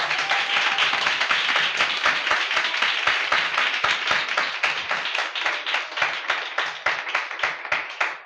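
A congregation claps rhythmically during a Sunday church service, a fast steady beat of many hands that continues throughout at a strong, even level.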